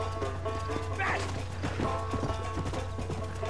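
A horse's hooves clop beneath a brief whinny while riding in Red Dead, the hoofbeats steady and close, with other game noise around them.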